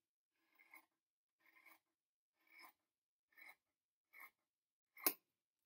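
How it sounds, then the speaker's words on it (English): Six separate snips of scissors cutting fabric, spaced roughly evenly and close by, each a short crisp rasp, the last one sharper and louder. "I'm going to take my scissors"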